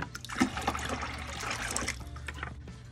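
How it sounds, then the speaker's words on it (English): Salt water from an aquarium trickles and splashes as corals are rinsed and scrubbed, a soft, steady dribbling with small clinks, close but fairly quiet, no talk. "Now with them being in this fresh salt water from the aquarium, it is another form of rinsing them and scrubbing them down"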